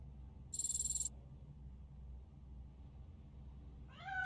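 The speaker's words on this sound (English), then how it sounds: "That cat must be hiding inside." A short high-pitched chime-like tone sounds early in the video game RoboCop: Rogue City, followed near the end by a brief, faint cat meow over quiet background hum.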